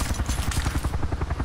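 A helicopter's rapid rotor thumping pulses steadily and loudly throughout, with a broad whooshing hiss above it, in the video game Arma 2: DayZ Overpoch.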